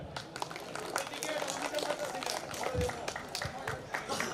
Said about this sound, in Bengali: আয়োজকদের জন্য একটা জোরে করতালি চাই